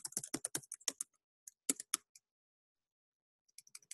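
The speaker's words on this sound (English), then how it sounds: "I'll type my name." Crisp keystrokes on a computer keyboard, a quick burst of clicks followed by a few more taps after a pause, close and clear with no voices.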